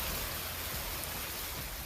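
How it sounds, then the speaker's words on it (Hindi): Heavy rain falls steadily during a monsoon downpour in Jalandhar, a dense, even hiss of broadband noise with no clear gaps, spattering on surfaces nearby and continuing throughout without any voices. "जालंधर में भारी बारिश जारी है।"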